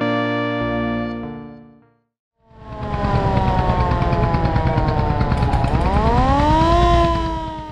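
Passenger launch engine running as the boat leaves Sadarghat, a steady loud droning hum with rising and falling tonal whine, preceded by a long horn-like blast that cuts off briefly before the engine noise builds.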